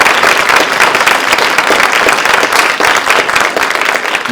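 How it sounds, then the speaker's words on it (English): An audience at an AI summit claps for a speaker, a dense, loud, sustained burst of applause that fills the room. "Can we give Giancarlo a massive round of applause?"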